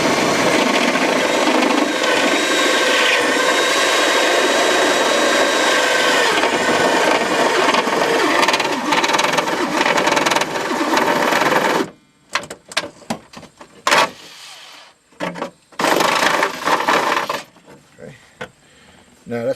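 A power drill bores a hole through a vehicle panel during an Insight wiring harness install, a loud continuous grinding whine for about twelve seconds, then a few short bursts and quieter handling noises.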